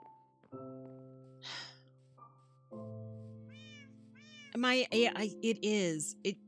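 Cats meowing in the Minecraft video game, several distinct meows and drawn-out mews spaced across the span, fairly clear and close, with sustained tonal game sounds underneath and a few quick meows bunched near the end.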